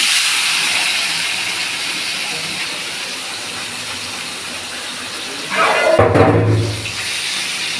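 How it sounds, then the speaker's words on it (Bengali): Small chuno fish fry in hot oil, a steady broadband sizzle and hiss that runs throughout, with a louder, fuller burst of crackling near the end. "চুনো মাছটা ভেজে নিচ্ছি, তেল গরম হয়ে গেছে"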